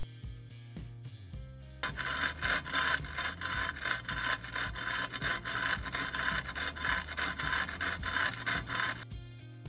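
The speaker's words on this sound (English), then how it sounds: "The belt was rubbing on the tensioner pulley bolt." A sanding belt on a Wen 1x30 belt sander rubs against the tensioner pulley bolt, giving a loud continuous scraping rasp with a rhythmic pulse once the motor spins up. The sound stops abruptly near the end.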